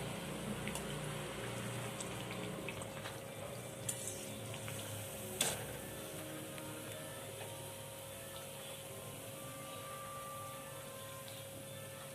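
Kachori frying slowly in oil on low heat gives a steady, quiet, even sizzle with a few faint clicks and pops, no voices over it.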